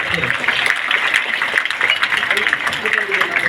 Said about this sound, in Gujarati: તાળીઓના ગગડાટ